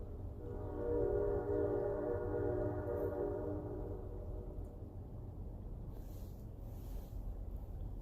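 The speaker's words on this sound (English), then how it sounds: "This is like the third time we've heard that train now." A train passes at a distance with a steady low rumble and a sustained tonal horn-like drone that slowly fades, heard outdoors during winter catfish fishing.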